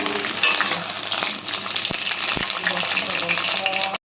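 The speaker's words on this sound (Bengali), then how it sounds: "এবার বেগুনগুলোকে আমরা হালকা করে ভেজে নেবো।" Eggplant pieces sizzle steadily in hot oil in a pan for a Bengali mustard fish curry, a loud continuous crackle with occasional stirring knocks, and no talk.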